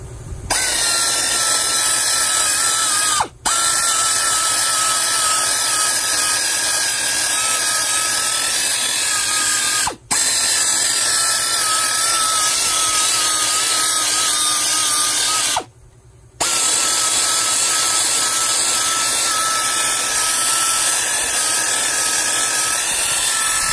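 Harbor Freight 3-inch air polisher running steadily on its high setting, a continuous loud pneumatic whir with a hissing edge, broken by three brief cutoffs as the trigger is released.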